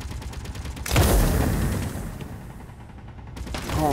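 Gunfire in Space Engineers: a loud burst of shots with a boomy low-end thump about a second in, decaying into rumbling noise, with more rapid firing building again at the end.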